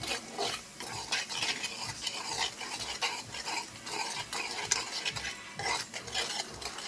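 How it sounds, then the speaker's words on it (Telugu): A spoon steadily stirs chili powder through a gongura rice mixture in a pan, giving a continuous close scraping and mixing rustle with faint sizzling, no voices over it. "కారం వేసి బాగా కలపాలి"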